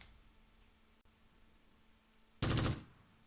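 Gunfire in the WWII strategy game Close Combat: one loud, short burst of rapid shots breaks out after a quiet stretch, then cuts off.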